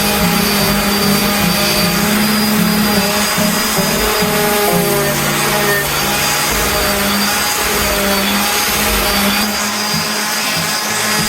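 A chop saw slices through walnut boards for kitchen floating shelves, a loud, steady motorized whine holding for the whole cut with a slight change in pitch partway through.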